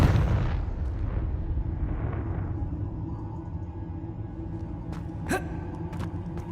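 Confringo spell blast in the video game Hogwarts Legacy: a heavy boom at the start decays into a low rumbling tail, followed later by a few sharp crackling pops and a brief whistling burst.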